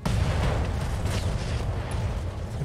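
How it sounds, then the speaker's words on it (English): A Panther mech in a mech combat game blows apart in a fiery explosion, a loud, deep rumbling roar that fills the whole stretch and slowly tails off without any talk. "And a nice, glorious explosion of fire."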